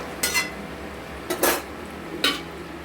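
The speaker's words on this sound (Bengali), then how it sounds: "আবার ঢাকনা দিয়ে ঢেকে দিলাম।" A metal lid knocks and clinks against a cooking pot of chicken being braised over high heat, three brief clattering hits spaced apart over a low steady background hiss, no talk.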